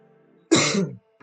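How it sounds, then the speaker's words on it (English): A single short, close cough, abrupt and throaty, standing alone in near silence. "I had a cough for no reason there"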